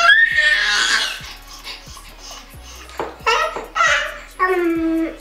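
A young girl babbles loudly in bursts of high, strained vocalizing that sounds like a tantrum, with short pauses and a faint repeated ticking underneath.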